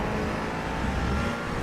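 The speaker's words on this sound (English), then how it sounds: "Car on your left." Race car at Mugello circuit passing close on the left, its engine revving and whirring loudly and continuously from inside another car's cockpit, rising and falling as it goes by.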